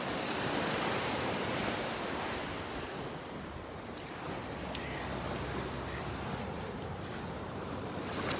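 Ocean surf washing onto a shore, a continuous broad roar of breaking water with wind buffeting the microphone, loud and close, easing slightly midway, with no voices.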